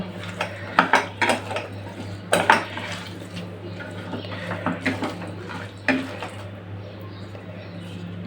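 Fish is mixed by hand with oil and a ground paste of chili powder, ginger, garlic and cumin in a metal bowl, giving scattered clinks and scraping knocks against the dish at close range.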